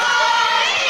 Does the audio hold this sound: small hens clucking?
no